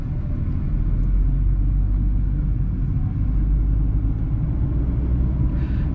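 A Renault Symbol with a 0.9 TCe 90 hp turbo engine pulls away with eager acceleration, producing a steady, loud low rumble of engine and road noise heard from inside the cabin, with no talking.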